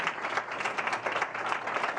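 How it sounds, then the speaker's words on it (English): Brief, fairly quiet clapping from airline stewardesses lining a corridor after a Formula One race, a steady patter of hands from a small group. "applause from the airline stewardesses"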